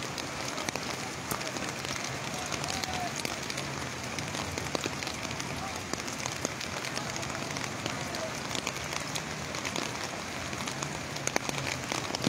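Continuous rain falling at Atrakhali Bridge during a flood, a dense, even hiss of drops on surfaces that stays steady and fairly loud throughout.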